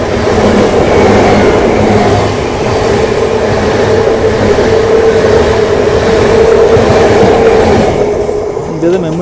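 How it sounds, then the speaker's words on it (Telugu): A train passes on the opposite track, a loud, close rumble of wagons with steady clatter and a rising wheel squeal near the end, heard from aboard a moving express train in India. "ఆపోజిట్లో ఏదో ట్రైన్ అయితే వస్తుంది"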